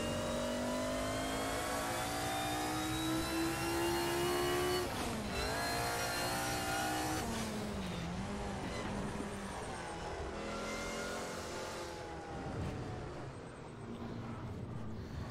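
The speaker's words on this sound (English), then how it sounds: "it sounds like a supercharger, that turbo whine almost." A DRM race car engine in Assetto Corsa revs hard with a high, rising transmission whine like a supercharger, dipping and climbing through gear changes, loud and continuous throughout.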